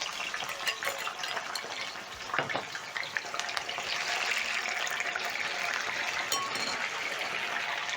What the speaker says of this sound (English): As the green banana wedges are frying